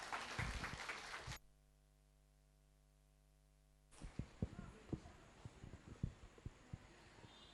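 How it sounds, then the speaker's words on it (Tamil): Audience clapping follows a Bharatanatyam dance performance, a dense burst of applause for about a second that cuts to a steady hum, then a scattering of sharper claps and knocks. "மீண்டும் கரகோஷம் எழுப்பி பாராட்டுமாறு கேட்டுக்கொள்ளப்படுகிறது"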